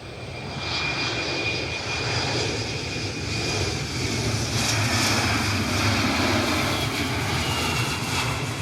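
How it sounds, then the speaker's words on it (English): Steady roar of jet engines as a Boeing 767-432(ER) taxis at Cleveland Hopkins airport, a continuous loud drone that swells slightly toward the middle, with no talking. "And can see that 767 taxiing."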